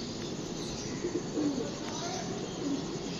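A pigeon coos softly a few times, low and murmuring, over a steady background hiss.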